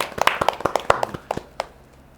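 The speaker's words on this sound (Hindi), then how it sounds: "चलिए एक बार सरपंच साहब के लिए तालियां हो जाएं" An audience at a Hindi poetry stage event gives a short burst of scattered handclaps, a dozen or so distinct sharp claps that thin out and stop within about two seconds.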